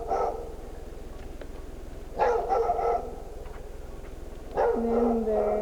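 A small indoor dog gives three separate bursts of sharp, close barking with quiet gaps between, the last bark sliding into a higher whine, over a low background hum.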